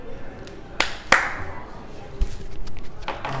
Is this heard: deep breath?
no